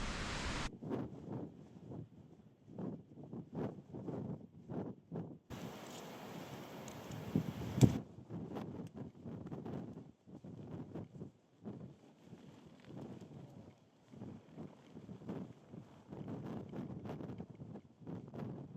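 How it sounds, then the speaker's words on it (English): Strong wind on an exposed mountain top gusts and buffets in repeated surges, rushing and rumbling close to the microphone, with one brief hiss in the middle. "The wind is absolutely ferocious up along the tops"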